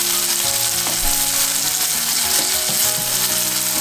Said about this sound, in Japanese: 木綿豆腐を加え、中火で焼き色がつくまで炒めます。